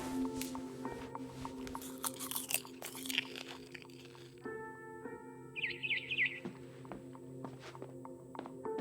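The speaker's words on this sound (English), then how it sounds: "Then I heard chirping outside my window." A barn swallow chirps in short bright bursts near a window in the video game What Remains of Edith Finch, amid crunchy chewing and bites earlier on.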